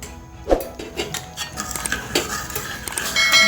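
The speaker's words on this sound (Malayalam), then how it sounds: "അപ്പം ഞാൻ നന്നായിട്ട് ഇളക്കട്ടെ." A pan of thick onion lehyam being stirred with a utensil, giving soft irregular scraping and occasional clinks of metal against the pan, close and fairly quiet with no talking.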